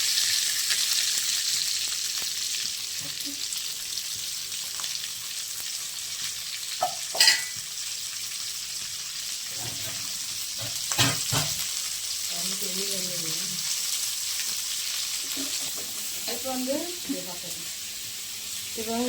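Onion, shallots and garlic sizzle steadily in hot oil for a fish curry, a continuous close hiss with a few clatters of stirring and faint background sounds.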